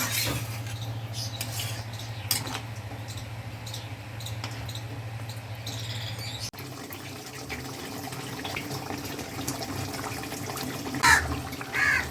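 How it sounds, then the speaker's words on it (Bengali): Water is poured into a mustard-paste tilapia fish curry, giving a soft, continuous liquid pour and splash over a low steady hum, with a few brief clinks along the way. "এবার আমি জল দেব।"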